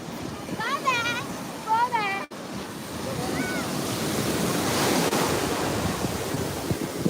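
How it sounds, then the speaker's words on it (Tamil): Surf crashes and rolls steadily onto the beach at Tiruchendur, a broad continuous wash that swells louder toward the end, with brief voices and chatter early on. "அந்த கடலுடைய அலையோட சத்தம் தான் உங்களுக்கு அதிகமாக கேட்கும்"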